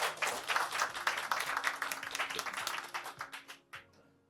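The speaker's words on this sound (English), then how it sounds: "a big round of applause" Audience applause at a lifetime achievement award ceremony, a steady wash of many hands clapping at moderate distance that thins out and fades near the end, with a few last scattered claps.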